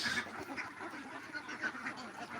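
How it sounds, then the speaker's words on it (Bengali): Ducks quacking repeatedly in a crowded group at a duck farm of about five hundred ducks, a steady overlapping chatter of calls nearby. "আমার ছোট হাঁসের খামার এখানে রয়েছে দেখুন"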